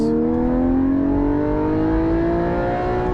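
Loud, close engine rev from a Porsche 718 GT4 fitted with a Soul Performance race exhaust, a steady hollow drone that climbs smoothly in pitch over a few seconds, with no talking.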